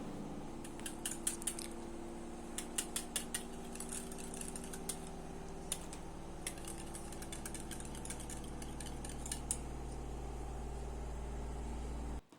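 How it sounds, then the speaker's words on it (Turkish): Yogurt and egg whisked together in a bowl for a tavuk çorbası soup dressing, heard as light rapid metallic clicking in quick clusters over a steady low hum in the background. "4 yemek kaşığı dolu dolu yoğurt ve bir tane de yumurta ekliyorum ve pürüzsüz bir hal alana kadar çırpıyorum"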